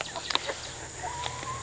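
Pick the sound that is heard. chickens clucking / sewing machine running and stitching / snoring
chickens clucking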